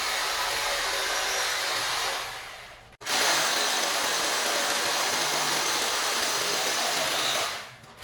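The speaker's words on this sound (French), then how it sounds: "je suis en train de percer le mur pour pouvoir placer le switch" A power drill bores into a wall to mount a network switch, giving a loud, steady broadband whine that runs for about two seconds, cuts out briefly, then resumes and drills continuously before winding down.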